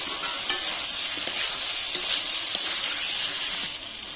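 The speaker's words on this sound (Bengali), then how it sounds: "এবার ভেজে রাখা পটলগুলো দিয়ে দেব।" Fried pointed gourd pieces go into a hot pan of potato curry, crackling with a steady bright sizzle and occasional stirring clacks throughout.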